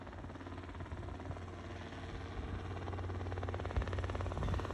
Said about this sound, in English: Saw this ambulance buzz by, and as I did, here came a helicopter.